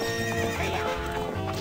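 In Zelda: Ocarina of Time, the horse Epona gallops with rapid clip-clopping hooves and lets out a whinny, a short, busy burst of game sound.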